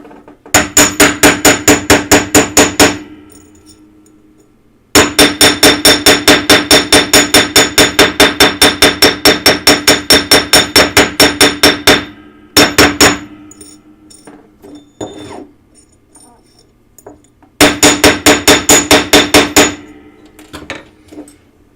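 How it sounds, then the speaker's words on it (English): A small metal piece of jewelry is hammered in long runs of rapid, ringing, evenly spaced metallic blows. The runs are loud and close, broken by short pauses and a few scattered single taps. "I think I'm going to hammer this to a little bit."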